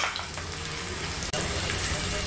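Fried potatoes and ridge gourd are tossed into spiced oil and fry with a loud, dense, continuous hiss. A brief break in the roar lasts a moment before it resumes, all close-up.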